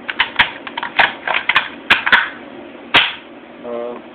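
A Mossberg Maverick 30-06 bolt-action rifle being cycled: a series of crisp metallic clicks and clacks in irregular rhythm, close and loud, followed by a brief bit of speech.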